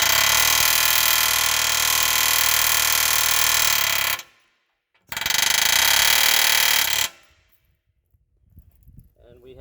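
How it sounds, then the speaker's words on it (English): Pneumatic air hammer fitted with a chisel bit cutting a rivet from an M35A2 truck frame: loud, continuous metallic hammering in two long bursts with a short pause between, then quiet afterward. "We're going to take our air hammer."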